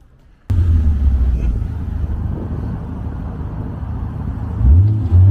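A muffler-deleted Lexus SC300 rolls past outdoors as a steady low exhaust rumble, swelling slightly near the end, with a gusty wind buffeting the microphone throughout.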